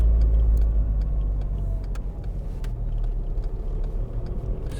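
A cold-engined VW Golf Mk5 with a fault-prone MAF sensor pulls away and rough-runs, its steady low engine rumble droning continuously from inside the car, with faint ticking clicks scattered over it.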